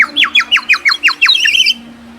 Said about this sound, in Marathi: असे पक्ष्यांचे आवाज निघतात.